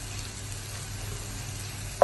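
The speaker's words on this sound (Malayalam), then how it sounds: "കറിവേപ്പിലയും സവാളയും ഇഞ്ചി വെളുത്തുള്ളി ഇതെല്ലാം ഒന്ന് വഴണ്ടിട്ടുണ്ട്." Curry leaves, onion, ginger and garlic sauté in a pan for a Kerala-style crab roast, giving a steady, soft sizzle throughout with a brief clink near the end.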